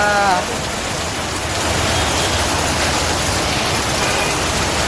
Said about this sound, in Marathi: काही थांबतच नाही पाऊस, काय करावं आता.